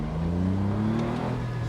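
A car launches from first gear, its engine note rising steadily as it accelerates, loud and continuous over the short span.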